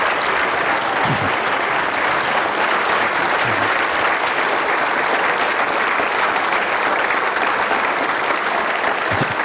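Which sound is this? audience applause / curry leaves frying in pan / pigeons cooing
audience applause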